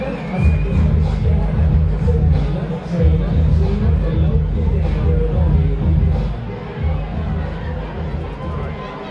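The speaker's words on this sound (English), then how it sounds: "I think he gained some fans here tonight as the crowd comes to life." Boxing arena crowd after a fight is stopped, a dense roar of cheering and babble that rises and falls steadily, with a voice speaking over it.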